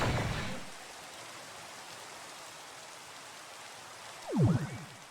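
Steady soft rain falling in the game Minecraft, a faint even hiss throughout, with a brief burst of talk at the start and a short louder voice sound near the end.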